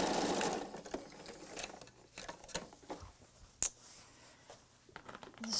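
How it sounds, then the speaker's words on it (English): A sewing machine securing a pillow top's edge with an 1/8 inch seam allowance whirs steadily at first, then breaks into intermittent stitching bursts and soft mechanical clicks, ending with another short run. "let's just quickly take that to the sewing machine and we'll secure that edge."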